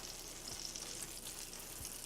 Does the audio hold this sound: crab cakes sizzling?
yes